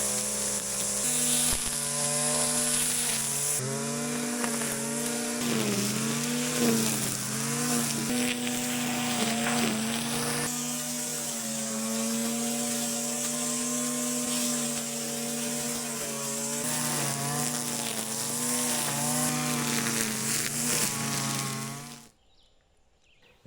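A petrol string trimmer cuts through about three-quarters of an acre of lawn grass, its engine whining steadily up close with repeated rises and dips in revs, then cutting out abruptly near the end.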